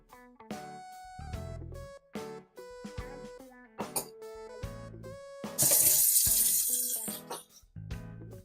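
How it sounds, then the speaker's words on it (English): Water running from a tap into a pot in the kitchen cooking video game Virtual Kitchen, splashing and gurgling in uneven bursts among short clinks, with a louder gush near the end. "I'm gonna get a pot of boiling water started."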